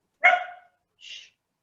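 A dog gives two short barks, the first louder and fuller, the second thinner and quieter, about a second apart in an otherwise silent indoor setting.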